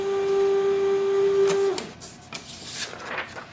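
A Canon imageClass MF656Cdw colour laser printer gives a steady high electronic tone, then switches to uneven mechanical whirring and clicking bursts as it prints a page, close by with no voices.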